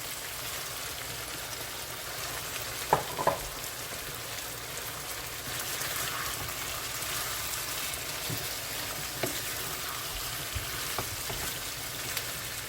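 Ackee sizzling and frying in a pan while making an ackee and saltfish taco, a steady broadband crackle with a few sharper pops, close and alone without talk.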